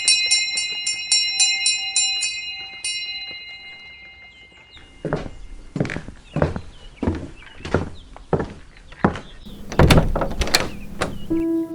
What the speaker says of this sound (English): But wait, someone comes to the door.